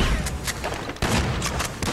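Gunfire in Grand Theft Auto 5, a string of rapid shots crackling close by over a noisy, busy background, moderately loud and irregularly spaced.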